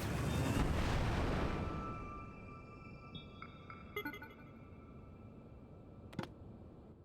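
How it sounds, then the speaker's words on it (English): Missiles and rockets blowing up in The Legend of Zelda: Tears of the Kingdom, opening with a heavy rumbling blast that fades out, followed by a few sharp pops and a final crack, with no talking. "These are missiles. These are rockets."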